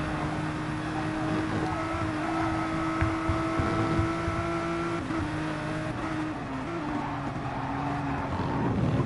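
Race cars in Gran Turismo Sport, including a Nissan GT-R, droning at Lago Maggiore GP in a multiclass SuperGT race, with a steady engine whine sustained throughout and slight pitch shifts, moderately loud and without talk.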